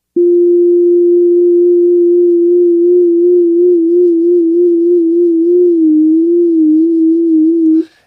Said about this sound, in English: I could pull up, say, a sine wave, play a note, and just wiggle the frequency by hand.